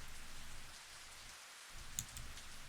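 Steady rain falls over a swamp in the Higurashi visual novel Kotohogushi, a soft, even hiss of drops on a wet surface, faint and continuous with no voices.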